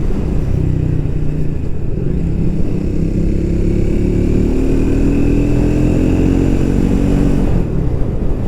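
A Triumph 400 399cc single-cylinder motorcycle engine buzzes steadily while riding, a loud close drone whose pitch climbs gradually as the bike speeds up, with no talking.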